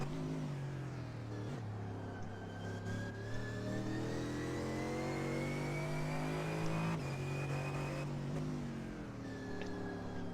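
Onboard engine of a race car chasing the number 1 Audi on a fast circuit with a NASCAR straight, droning steadily and loud throughout, with gear shifts and rising revs as it accelerates.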